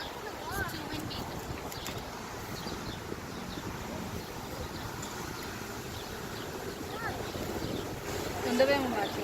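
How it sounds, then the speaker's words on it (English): Outdoors on a windy day, gusts buffet the microphone with a constant low rumble and roar, swelling louder near the end, while faint voices talk in the background. "It's too windy."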